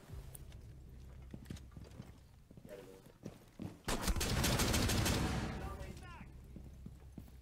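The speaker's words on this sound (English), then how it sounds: "I want to go past this person, but they keep shooting." Gunfire in Rainbow Six Siege: scattered single shots and taps, then a dense, loud burst of rapid automatic fire lasting about two seconds, with a player's voice talking faintly around it.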